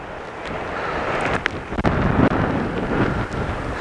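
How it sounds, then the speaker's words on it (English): Strong gusts from an Oregon wind storm roar continuously across the microphone, with broadband buffeting that surges in bursts and sharp thumps, loud and close throughout. "Yeah, definitely some serious wind out here."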